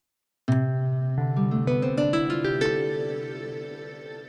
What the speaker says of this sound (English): You hear that black hole effect.